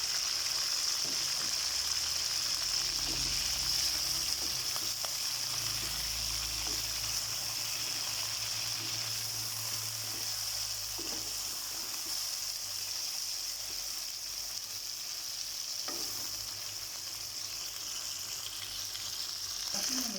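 Chicken and onions fry in a pan, a constant loud sizzle with faint stirring sounds beneath, and no voices.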